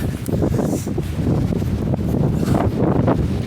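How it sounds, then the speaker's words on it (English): Strong coastal wind at Padstow buffets the microphone in loud, continuous gusts, with no voices. "it's got a lot windier."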